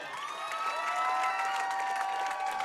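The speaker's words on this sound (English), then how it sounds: "Let's hear it again for all of our state singles finalists." Crowd applause with scattered cheers for state singles finalists at a Wisconsin high school bowling championship, steady and fairly loud throughout, with no talking over it.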